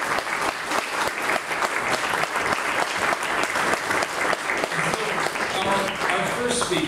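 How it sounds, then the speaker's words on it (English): A conference audience applauds at a welcome address, many hands clapping in a dense, steady wash. Scattered voices rise toward the end as the clapping continues. "You can applaud it."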